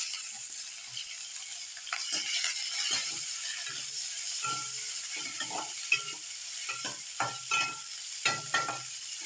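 A steady oily sizzle of onions frying in a pan, broken by repeated scraping strokes of a spatula stirring them, close and continuous.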